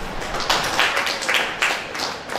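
An audience at an International Day of Persons with Disabilities event claps for Jesus, a loose, moderately loud patter of hands that rises in a few uneven waves.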